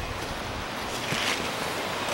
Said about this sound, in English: the creek runs right alongside the trail pretty much the whole way